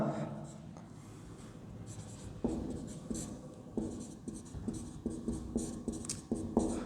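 Marker strokes on a board during a class 10 physics lesson on electrical resistance, a series of quick rhythmic scratches and taps, close, while a teacher talks quietly underneath.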